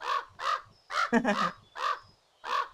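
A crow in the video game Pumpkin Panic gives a string of loud, evenly spaced caws, close and clear, with a brief stretch of talk or chatter in the middle.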